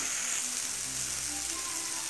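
Fish curry masala with turmeric powder and salt frying in a pan, a steady close sizzle and hiss holding even throughout with no talk.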